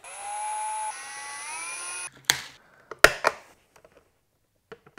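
A power drill whines steadily as it bores holes through a 3D-printed plastic vent for fitting a fan, then stops, followed by a few sharp clicks and knocks of handling the parts, close and clear.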